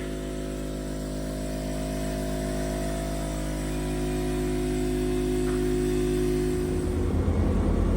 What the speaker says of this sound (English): show you running an air compressor in the thing and airing up some buses